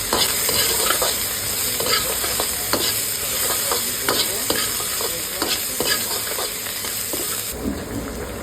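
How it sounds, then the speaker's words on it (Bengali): Schezwan chicken gravy stir-fried in a hot pan with dried chillies, capsicum, onion, ginger and garlic, giving a steady loud sizzle broken by repeated scraping clatters of the stirring spoon, with no talking. "তোমাদেরকে দেখাবো কী করে শেজওয়ান চিকেন গ্রেভিটা বানাচ্ছি"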